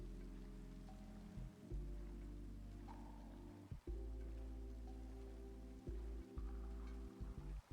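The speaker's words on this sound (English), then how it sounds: "it's nice to get rained on every once in a while" Steady rain pours down in Minecraft, a soft even hiss holding for the whole stretch beneath low sustained tones with a few brief dropouts, and no voices.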